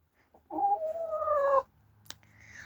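A hen lets out a drawn-out, throaty cluck nearby, followed by a short sharp click and faint background bird noise.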